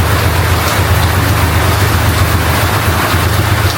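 Rain falling outdoors, a loud, steady broadband wash with a constant low rumble underneath, continuous and unbroken with no voices.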